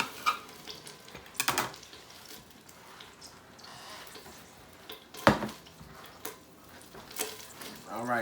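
Cooking oil heating in a pot in a home kitchen, a faint steady sizzle under clinks and knocks of utensils, with a few louder scraping bursts.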